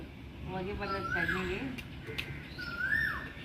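An Asian koel repeats a rising, whistled call twice, fairly distinct over someone talking in the foreground.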